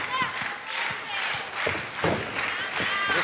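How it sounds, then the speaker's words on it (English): A wrestling crowd at the NWA 74 event claps and cheers steadily throughout, a dense wash of applause under a commentator's voice. "This crowd coming alive for a woman who really gave it her all last night on night 1 of NWA 74"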